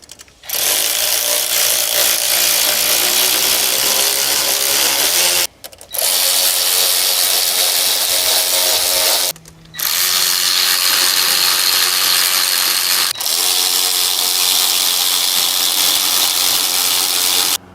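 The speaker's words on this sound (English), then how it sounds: "let's get these clamps tightened up" Ratchet or power tool tightening intake clamps on a 6.0 Powerstroke engine: a loud, steady mechanical whirr running in long bursts, broken by three brief pauses, close to the microphone with no talk.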